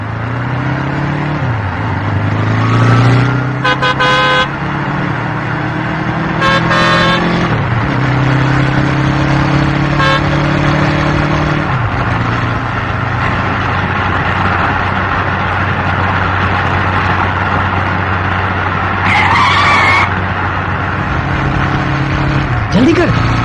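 A car races along in a Hindi-dubbed Hollywood adventure thriller, its engine droning loud and steady with shifting pitch as it speeds, brief sharp bursts cutting in over the roar, and voices heard at times.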